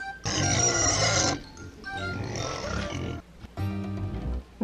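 A toy pig gives long, loud, buzzy oinking grunts in three bursts, close up, with no talking.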